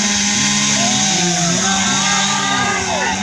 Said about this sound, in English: They're now going to start their chainsaw and down this off the end of that log